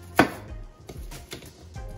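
A kitchen knife chops an onion on a board for turkey-neck broth: one sharp, close chop, then several softer, spaced cuts.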